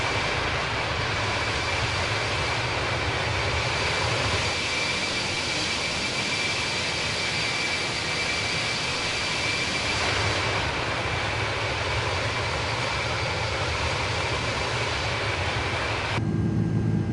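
Steady jet engine drone of an Airbus airliner cruising in flight in Microsoft Flight Simulator, a continuous loud roar with broad rushing noise and a faint tonal whine, shifting slightly in tone partway through, with no talking.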